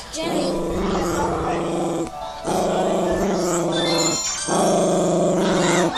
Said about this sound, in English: All right, watch him growl at me.